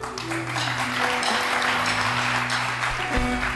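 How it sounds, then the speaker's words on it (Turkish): Studio audience applause on a Turkish television talk show, a continuous wash of clapping over a steady musical hum and a low tone, moderately loud throughout. "Alkışlarla açıyorum."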